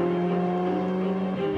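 Race car on a hot lap in a head-to-head race, a loud, steady engine drone with strong tonal harmonics holding a near-constant pitch throughout, close and continuous, with no voices.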